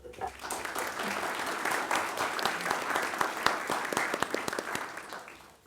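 A school board meeting audience gives a steady round of applause for a youth council coordinator stepping up to the podium, with dense clapping throughout that tapers off near the end.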